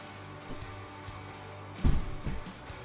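A window is slid open and then shut, giving a soft knock followed by a louder thud and rattle. Both are brief and close, heard over quiet background music.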